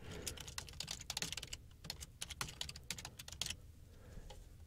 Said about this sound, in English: Once you're done, you can go back, re-enter your password